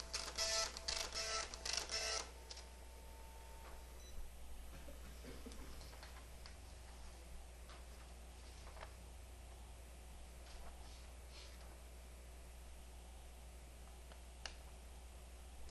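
An Epson LX-300 dot matrix printer printing its configuration tables: a loud burst of buzzing, rattling print-head passes at the start, then quieter ticking and clicking over a constant low motor hum.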